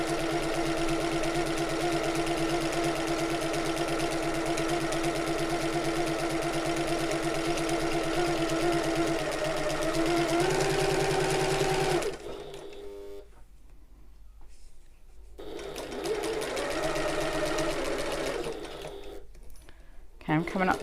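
A sewing machine top stitches a shoulder bag at a 3mm seam allowance with a long stitch length. It runs steadily and closely, stops for a moment, resumes, then stops again briefly near the end.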